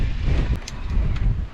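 Strong wind buffeting a microphone on an exposed ride to Farewell Spit, New Zealand, a steady loud rumbling roar with a few faint gusty flutters on top.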